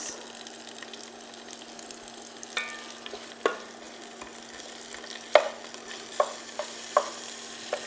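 Onion frying in clarified butter in a pan while slow-cooking beef short ribs, a steady low sizzle with scattered crackles and a few sharper spatters and stirring clicks, close by and with no talking.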